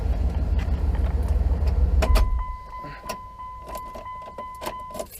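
A Dodge Ram pickup truck engine rumbles low after an exhaust leak repair, then cuts off about two seconds in, followed by a quiet cabin with faint clicks and a steady electronic chime.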